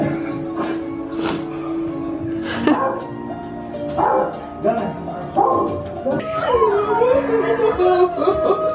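Several dogs yip, bark and whimper in a playback about lost dogs that were found again, with voices speaking over and between the barks.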